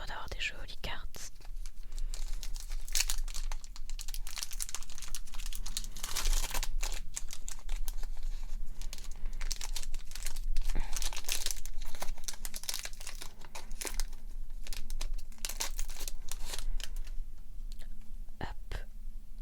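Pokémon card booster packs torn open and cards handled in a close, quiet setting, giving steady crinkling and rustling of foil wrappers with scattered sharp crackles, accompanied throughout by soft whispered speech.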